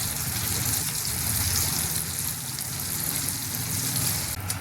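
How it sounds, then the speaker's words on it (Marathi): Eggs fry in a spoonful of oil in a pan, a steady, continuous hiss and crackle close by, with no pauses and no talk over it. "आपण असे त्याला पलटवून घ्यायचे. अंडी ती फ्राय करून घ्यायची."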